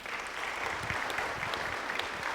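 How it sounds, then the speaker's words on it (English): Steady applause from an audience at a Berkley State of the Cities 2023 event, welcoming five team members as they stand; dense, continuous clapping held at an even level throughout. "If they could stand and just give them a round of applause."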